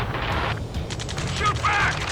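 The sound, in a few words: gunfire in the video game Ace Combat 7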